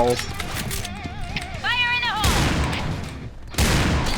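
Rapid bursts of gunfire from the shooter game Point Blank crackle through a noisy match, with energetic player voices talking over the shots.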